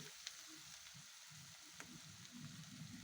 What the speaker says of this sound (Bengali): তেল ফুটে গেছে এই পর্যায়ে আমি সেই ডিমগুলো সব দিয়ে দিচ্ছি